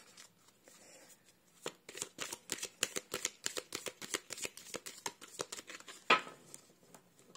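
Playing cards are shuffled by hand in a quick series of crisp riffling flicks, close and fairly quiet, building into a rapid rhythmic patter and ending with a sharper snap as the deck is squared.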